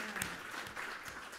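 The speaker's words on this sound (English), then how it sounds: "let's give a hand" A church congregation claps for the pastor at a Sunday gathering, a brief, fairly soft burst of steady applause with no talk over it.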